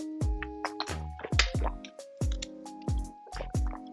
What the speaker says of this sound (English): I'm gonna take a sip of water